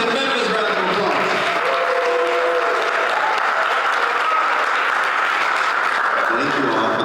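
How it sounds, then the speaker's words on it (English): A crowd at a Memphis town hall meeting gives a loud, sustained round of applause, with cheers and voices mixed in throughout. "Give him a round of applause."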